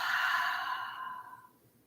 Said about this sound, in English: Take a deep inhale through your nose and exhale through your mouth.